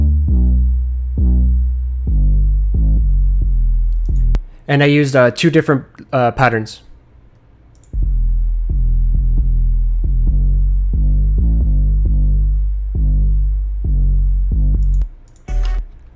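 An 808 bass from the 808 Madness instrument is soloed in a beat: deep booming sub-bass notes in a rhythmic pattern, loud and close, interrupted briefly by someone speaking.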